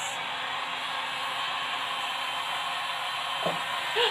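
Hair dryer blowing steadily on fresh paint on a side table, a constant close whooshing roar that runs throughout with only slight variation.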